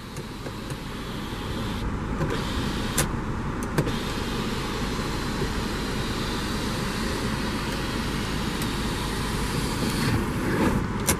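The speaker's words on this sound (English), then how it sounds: "your panoramic roof, which you can raise and then actually send all the way back" A 2015 Hyundai Santa Fe Sport's panoramic roof and sunshade powering open, a steady electric motor whir running for several seconds inside the cabin, moderately loud and continuous, with a couple of brief clicks and no talking.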